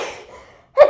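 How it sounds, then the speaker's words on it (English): A single sharp sneeze bursts out near the end after a soft breathy exhale, close and fairly loud. "Oh, what a sneeze."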